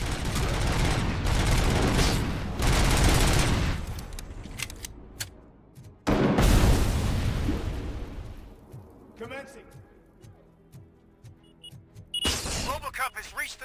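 Enemy gunfire in the RoboCop: Rogue City video game erupts in dense, loud bursts of shooting and impacts, separated by quieter stretches of sporadic mechanical clatter and game sounds.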